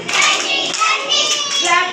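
Schoolchildren clap their hands overhead during a physical training session, giving quick, bright claps over about two seconds while young voices chant along.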